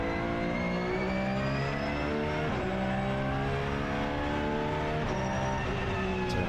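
A Porsche race car at a Rennsport Reunion event accelerates through a track turn, its engine note loud and continuous with steady rising harmonics and brief gear-shift breaks, no voices over it.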